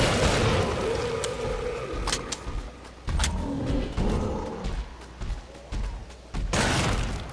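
Gunfire in Killing Floor 2, a run of sharp loud cracks and booming shots spaced irregularly over a rumbling mix of game noise, without talking.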